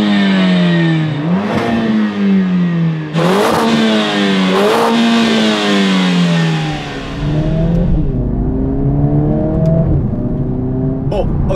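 A Mercedes A45 AMG S with a 2-litre four-cylinder engine revs hard through several rising sweeps and gear changes, loud and close, then settles into a steadier drone.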